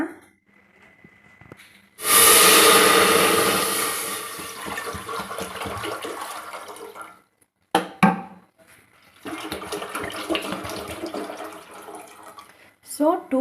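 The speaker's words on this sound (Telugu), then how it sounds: "టూ లీటర్స్ వాటర్ వేస్తాను" Two litres of water poured into a wide cooking vessel make a loud, close, gushing rush that gradually thins out, pauses briefly, then flows again more softly.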